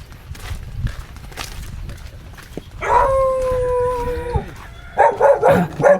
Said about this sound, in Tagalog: May aso, ah.